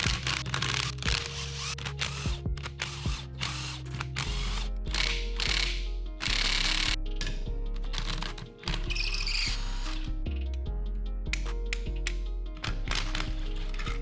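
A socket wrench ratchets bolts out of a Subaru engine during disassembly: loud, close clicking pawl runs in repeated bursts, broken by metallic taps and scrapes.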